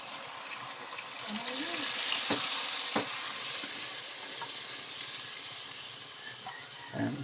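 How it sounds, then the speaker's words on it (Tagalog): Water poured into a hot pan of fish escabeche sets off a steady sizzling hiss that swells and then fades, with a few sharp clanks of a utensil and brief speech-like murmurs underneath. "lagyan na natin ng tubig."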